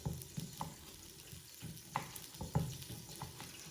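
Quiet, low sizzling and light crackling of chorizo in an Instant Pot, with a few soft pops and occasional clinks.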